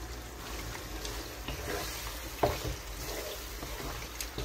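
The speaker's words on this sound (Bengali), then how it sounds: "মশলাটা কষানো হয়ে গেছে, এখন মাংসটি দিয়ে দিতেছি।" Meat frying in cooked spices in a pot for dry-style biryani, with a soft continuous sizzle, occasional stirring scrapes, and a sharp clatter partway through.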